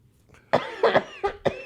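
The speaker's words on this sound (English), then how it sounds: "That lingering cough is just murder" A lingering cough left over from COVID: a run of four or five harsh, close coughs in quick succession after a short quiet start, heard alone without speech.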